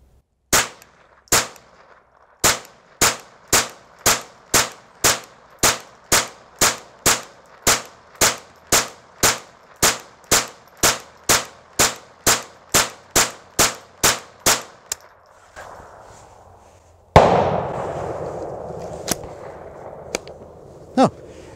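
A Marlin 795 .22 rifle fires 25 rounds from an extended magazine, sharp evenly spaced cracks in a steady rhythm for about fifteen seconds, then a pause and clatter of handling outdoors.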